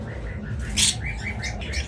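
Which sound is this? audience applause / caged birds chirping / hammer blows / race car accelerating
caged birds chirping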